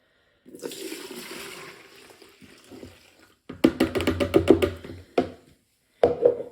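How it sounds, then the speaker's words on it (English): Homemade mead being poured into a larger jug: a steady splashing pour runs for a few seconds, then a quick series of close knocks and clinks from the jug and vessel follows. "I'm just going to put it in this larger jug because now we have to get it ready to turn to vinegar."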